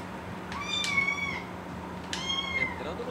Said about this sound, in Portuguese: Começou o gato de novo, já.